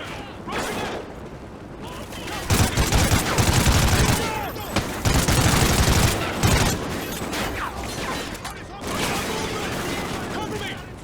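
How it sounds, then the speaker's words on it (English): Heavy gunfire in Call of Duty Ghosts, with dense bursts and loud booming volleys from about 2.5 s, thick and continuous, while voices shout over the battle. "Some covering fire!"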